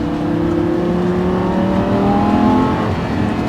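A Lamborghini Gallardo pulls hard under acceleration, its engine note a loud, steady drone with tones rising in pitch as it climbs through the revs, heard from inside the car without speech.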